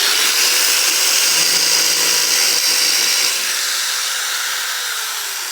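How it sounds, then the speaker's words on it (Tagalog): An angle grinder cutting, a loud, steady high-pitched grinding rush held close for several seconds that slowly fades toward the end. "Ganyan tamang paghawak sa grinder. At ganyan tamang pagpuputol."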